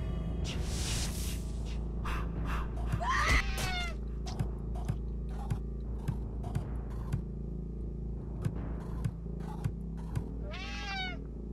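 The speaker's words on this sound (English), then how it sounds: "Jason, don't hurt the kitty" Several cat meows from the video game Friday the 13th: Killer Puzzle, two of them clear, rising-and-falling cries, heard over a steady game music bed with scattered soft clicks and ticks and no talking.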